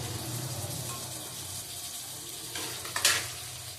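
Garlic and ginger paste sizzles in a pan with chicken, a steady frying hiss under occasional stirring scrapes, with a brief louder burst near the end.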